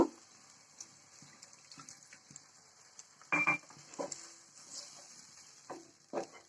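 A little water splashes into a hot pan of tangra fish frying in spice paste in a short pour over a steady sizzle, with a few scattered clinks before and after.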